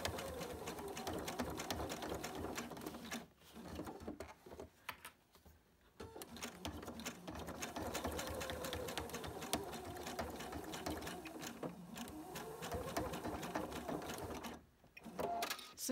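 Sewing machine stitching the bottom binding seam of a vinyl pouch, a steady close mechanical whir with brief pauses and restarts, including short backstitch runs.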